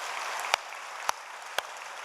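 Children clapping in a church during an early-morning worship retreat, four slow separate claps spaced about half a second apart over a constant roomy murmur.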